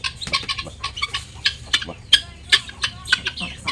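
A rooster on a home farm clucking in quick, uneven bursts, close and moderately loud, with a little faint background noise.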